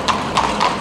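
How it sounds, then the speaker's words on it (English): Horse-drawn carriage hooves clip-clopping on a Vienna street, three evenly spaced hoof strikes at close range over a steady background hum of city ambience. "We've been treated to the ambience of horse carriages."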